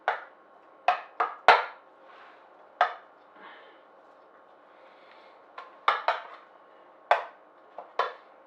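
Banana almond granola is spread across a baking tray, giving sharp, irregular clinks and knocks of a utensil against the tray, separated by quiet gaps.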